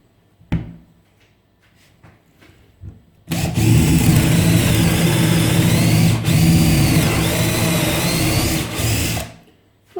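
A Parkside PABS 20 LI C3 20-volt cordless drill, set to drill mode at speed 19, starts after a few faint knocks and runs with a loud, steady whirring drone for about six seconds before stopping.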